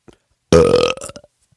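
A single loud, close, wet belch lasting about half a second, with a gurgling tail that fades out quickly, heard alone.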